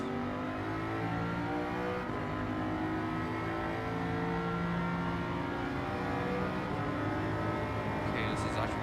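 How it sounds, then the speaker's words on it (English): Race cars in Gran Turismo 7 holding a steady, loud engine drone with shifting pitch as they accelerate at speed on a power-restricted race, continuous from start to finish, with a voice talking over it. "These cars are moving kind of fast"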